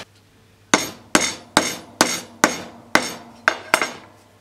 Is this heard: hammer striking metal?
yes